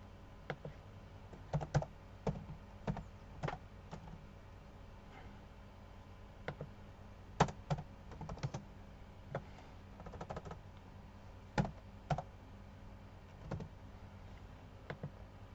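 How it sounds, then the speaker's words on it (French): Keys clatter on a computer keyboard in scattered bursts of quiet, close clicks with uneven rhythm and brief pauses, set against a low, steady room hum with no voices. "j'ai tapé ce nom parce que je pensais que mon clavier était bloqué"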